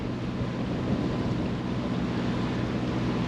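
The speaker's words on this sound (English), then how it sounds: "Still a bit breezy." Steady breeze rushes across the microphone on the flat water of the Norfolk Broads near a marina in July, a continuous close roar of wind buffeting with no breaks and no voices.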